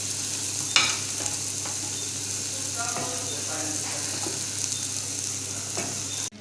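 Onion paste and tomato paste sautéing in a pan, a steady loud sizzle with spoon scrapes and a couple of sharper clinks against the metal, continuous and close, with no talking.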